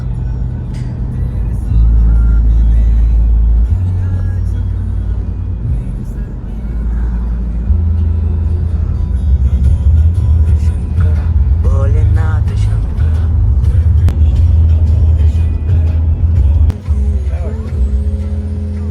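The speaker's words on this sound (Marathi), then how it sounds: "चारही बाजूला ट्रकच ट्रक." Heavy road traffic thick with trucks, stalled in a jam on the way to Ujjain, makes a loud, continuous low engine rumble that swells and eases, with passing vehicles and faint background voices mixed in.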